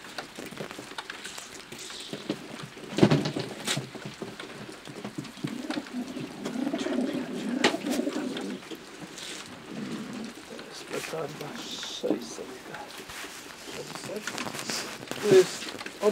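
Racing pigeons, Janssen, De Klak and Meulemans lines, coo softly and repeatedly in a loft, low and murmuring beneath someone talking steadily throughout.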